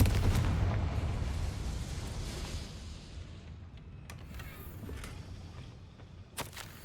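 In the Hogwarts Legacy video game, a Confringo blasting spell goes off as a deep, rumbling explosion that decays slowly over several seconds, followed by a few faint crackles and a sharp, brief impact near the end.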